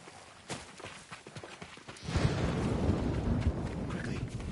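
Horse hooves in the video game Ghost of Tsushima: scattered soft steps at first, then a louder, denser rumble of galloping and clattering that continues to the end, close and busy.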